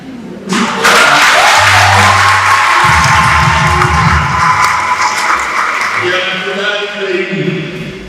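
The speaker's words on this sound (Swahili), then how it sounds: "naomba sana shangilieni, makofi yenu yaendane na sadaka na majitoleo" A church congregation at a Catholic feast-day service for St. John Bosco breaks into loud, sustained applause and cheering that swells after a brief opening and continues throughout, with voices shouting and a low voice murmuring beneath.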